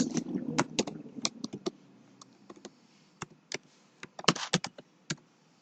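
Someone types an SQL query on a computer keyboard nearby, in irregular bursts of crisp key clicks with short pauses and a quicker flurry near the end, over a faint background hum.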